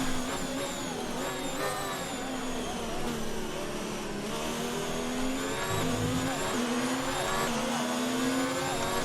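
A Formula 1 race car engine in the F1 2019 video game during a race at Japan, whining high and loud without a break, its pitch rising and falling as the car accelerates and lifts through corners.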